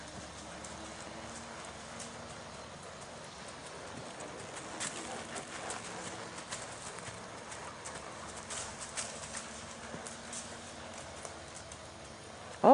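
A horse's hooves clip-clop at a walk while it is worked over board barrel obstacles in a training session, a faint, fairly distant rhythmic beat of steps with birds and soft background noise around it.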